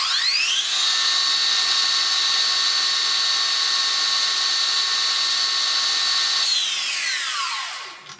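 A Makita LS002G 40V 216mm cordless mitre saw spins up on a freshly charged 2.5 amp hour battery, holding a steady high-pitched whine for several seconds before winding down as the motor stops.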